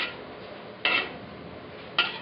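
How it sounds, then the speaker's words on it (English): Pasta salad with melon and parsley stirred in a bowl, a soft continuous scraping with two brief clinks of a utensil against the bowl, quiet and close. "Then we'll stir it"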